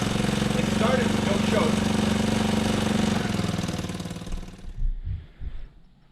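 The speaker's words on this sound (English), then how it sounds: "All right, starts, runs, and idles." Tao Tao 110cc ATV engine, a scrap quad being rebuilt, runs with a steady loud small-engine drone for several seconds, then cuts out and stutters with a few uneven pops and sputters near the end.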